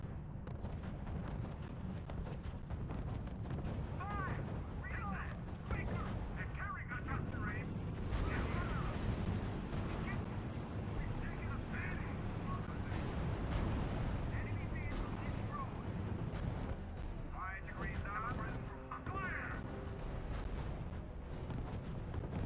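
Artillery and gunfire from the strategy video game R.U.S.E. rumble continuously through the whole stretch, dense and steady with sharper bursts, while voices talk over the battle noise.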